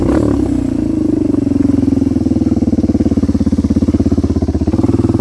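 A Kawasaki KLX 230R motorcycle engine pulls hard and steady at high revs while the rider holds a wheelie, loud and close, with a rapid rhythmic pulse and a brief dip near the end.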